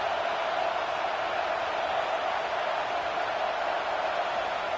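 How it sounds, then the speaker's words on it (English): Stadium crowd at a football game, a steady broad roar of many voices blending into a constant wash of noise, sustained and even throughout with no distinct cheers. "Listen to the crowd energy here in the early going."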